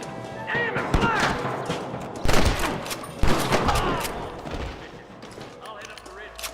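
Gunfire in the western video game Red Dead Redemption, a string of sharp, loud shots in quick succession with heavier cracks standing out, while voices talk over the shooting.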